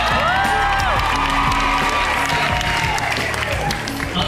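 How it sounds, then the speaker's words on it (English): Audience applause and cheering at a Heartland cast event, dense clapping with whoops and shouts over steady music, a sustained loud crowd throughout. "Big round of applause for Michelle"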